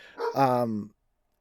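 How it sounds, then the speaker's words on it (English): A single dog bark, short and fairly loud, rising then cutting off into silence, close to the microphone. "pardon the dogs, they will bark"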